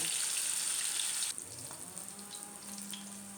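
Pond fish frying in hot oil, a faint hiss that is loud for its first second and then drops to a softer, quieter sizzle.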